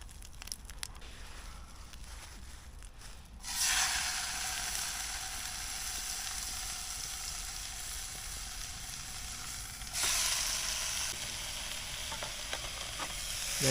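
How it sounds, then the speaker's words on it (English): Hot oil sizzles steadily in a frying pan as bacon cooks, the crackle jumping louder twice as food is stirred or added, with no talking. "Right, let's start getting the bacon prepared. The oil's starting to sizzle."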